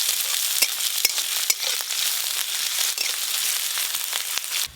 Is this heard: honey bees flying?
no